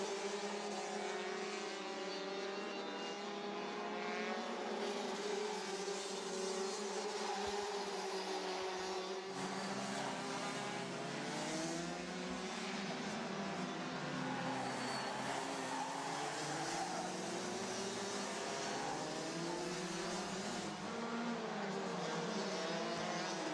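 Race cars circulate on a track at Kandava, a steady, distant engine drone with shifting pitches as several cars pass, and faint tire noise under it throughout.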